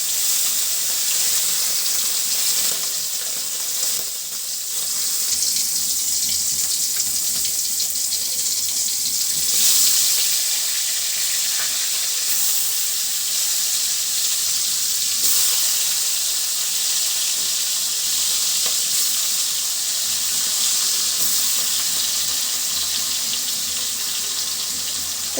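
Fish frying in hot oil in a wok sends up a loud, steady, dense sizzle that hisses without pause for the whole stretch, with no voices.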